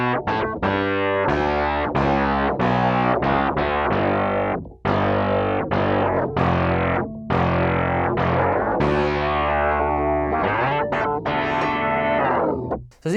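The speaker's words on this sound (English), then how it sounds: "very digital sounding, synth kind of sounding, very unique pedal" Bass guitar run through a synth effects pedal, giving a digital, synth-like distorted tone; a steady stream of plucked notes and short phrases plays loud and continuous, with brief pauses between runs.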